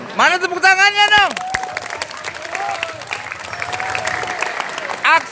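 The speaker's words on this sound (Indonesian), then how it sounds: "Mana tepuk tangannya dong?" An audience at a school student council (OSIS) candidate debate breaks into applause, opening with loud whoops and cheering voices, then settling into a dense, steady patter of clapping that swells again briefly at the end.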